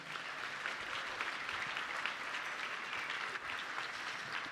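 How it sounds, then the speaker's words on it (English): Guests at the Boise Metro Chamber annual gala and auction give a round of applause, steady, even clapping throughout, heard from a distance and fairly quiet. "let's give another round of applause to the amazing chamber team"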